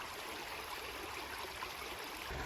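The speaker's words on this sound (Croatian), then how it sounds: "Rusija, grad Moskva, rijeka Kotlovka." A small, shallow urban river, the Kotlovka in Moscow, flows over bricks in a steady broadband rush of running water, close and continuous with no voices.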